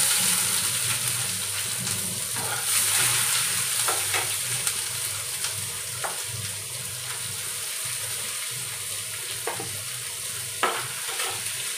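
Chopped onion sizzling and frying in a pan with a steady crackling hiss, broken by occasional stirring scrapes and clinks, close up and without talk.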